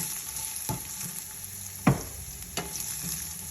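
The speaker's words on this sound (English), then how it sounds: "now you can add the potatoes" Potatoes frying in a pan for a Gujarati cluster bean sabji, a steady low sizzle punctuated by a few sharp stirring knocks and scrapes, close by with no talking.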